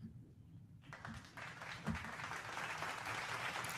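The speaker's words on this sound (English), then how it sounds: "Go ahead and clap it up for Mr. MVP" A crowd breaks into applause for an NFL MVP candidate, starting faintly then swelling into steady, dense clapping that holds strong to the end.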